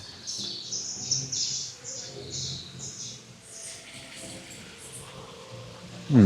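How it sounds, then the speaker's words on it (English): A flock of flamingos calling continuously during mating season in Key West, high, nasal honks and chirps, a busy chorus with low background noise and a thump at the end. "It's mating season, that's why these flamingos are making so much noise."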